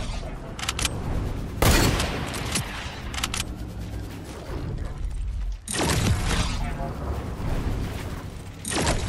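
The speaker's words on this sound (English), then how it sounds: "They're shooting at me." Fortnite video game gunfire crackles in loud bursts and rapid volleys over steady game noise, with two especially sharp blasts standing out near the start and middle.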